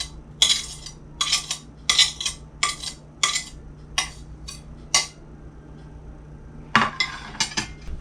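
Butter being mixed into crumble in a bowl gives a run of clinks and scrapes, utensil knocking against the dish in uneven bursts, close and fairly quiet, with a short pause before a final cluster of clatters.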